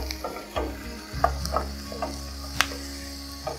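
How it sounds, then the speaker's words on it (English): Bell peppers and onions frying in a pan while being stirred, a steady close sizzle broken by scraping stir strokes and a few light utensil taps against the pan. "Now I got to give it a little stir."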